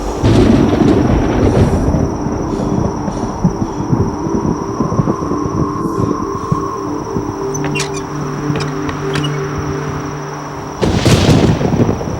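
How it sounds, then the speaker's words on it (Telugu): Thunder rumbles through a stormy night scene in a Telugu movie, with strong wind. A loud, continuous roar runs throughout, and a sharper crack bursts near the end. "ఆ రోజు పిడుగులు ఉరుములు బాగా గాలి"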